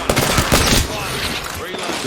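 Rapid gunfire from an online shooter video game rattles loud and close in dense overlapping bursts, with game sounds and talk mixed underneath.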